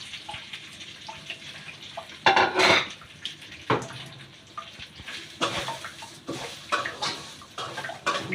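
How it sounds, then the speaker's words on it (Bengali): Bowls and dishes clink and knock repeatedly as semai is served for Eid, in irregular bursts with several sharp close clatters and some running-water-like rustle between them. "সেমাইটা দিয়ে দাও তন্ময়, সেমাইটা ওই যে বাটি বলে সেমাইটা, লাল বলে সেমাইটা দিয়ে দাও"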